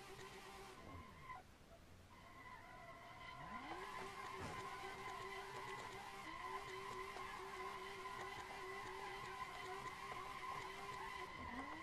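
Simulated Tofaş car drifting along a mountain road in Assetto Corsa, with sustained, loud tire squeal and skidding over a revving engine whose pitch rises and falls as it shifts, continuous for the whole stretch with no talking.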